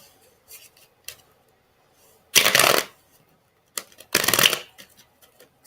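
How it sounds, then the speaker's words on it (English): Two quick riffle shuffles of a deck of cards, each a brisk fluttering burst, with faint handling sounds between them. "I could barely shuffle"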